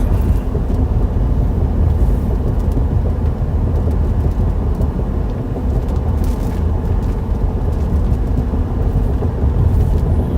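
Loud, steady rumble of a pickup truck driving through severe storm wind in central Iowa, with heavy buffeting wind noise and occasional light taps of leaf litter hitting the truck throughout.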